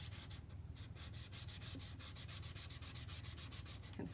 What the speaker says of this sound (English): I have a little emery board that I'm just going to use to sand the back of this